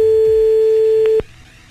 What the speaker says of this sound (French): Appelle Didier